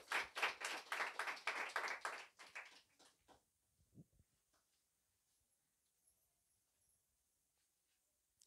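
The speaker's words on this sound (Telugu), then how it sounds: "చప్పట్లు కొట్టండి." A church congregation clapping hands together in a loud, fast, close burst for about three seconds, then thinning to a few scattered claps and faint knocks before falling silent.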